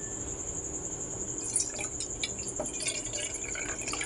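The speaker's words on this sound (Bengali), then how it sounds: "এই জলটা ছাঁকা হয়ে গেলে পরে ছানাটা পুরো পেয়ে যাব" Water drips from freshly strained chhana (cottage cheese) in a strainer into a mug, a few soft, irregular drips and trickles, faint and close, with a thin steady hiss in the background.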